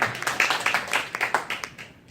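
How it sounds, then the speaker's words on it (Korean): A church congregation at a Sunday worship service gives a short burst of handclapping, a fairly quick, uneven patter heard from a little distance that thins and fades away within about two seconds. "이 정도 되면 박수 한 번 쳐주셔야 됩니다."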